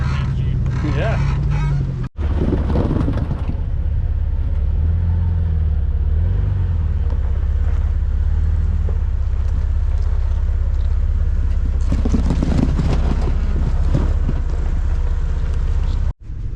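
Jeep crawling the Behind the Rocks off-road trail, its engine a loud, steady low rumble with interior road noise filling the whole span, while people talk inside the cab over it.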